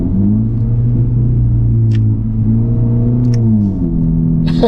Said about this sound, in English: It sounds good if that's the factory exhaust.